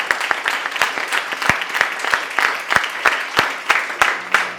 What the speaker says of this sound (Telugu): మరి చప్పట్లు కొట్టండి సంతోషంగా.